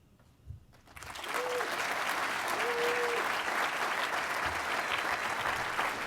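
Audience applause at an annual fundraising dinner starts after a second of quiet and swells into steady, sustained clapping filling the room, with faint voices beneath.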